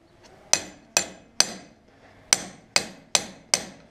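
Hammer driving a chisel against a steel wheel on an Ursus tractor during bearing repair: seven sharp metallic strikes, three then a pause then four, ringing briefly and close with no talk.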